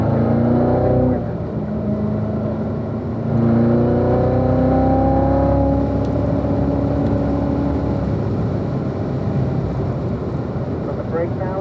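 A Corvette laps a race track at speed in a driving school, its engine revving up and down through the gears with rising and falling tones while someone speaks over the noise.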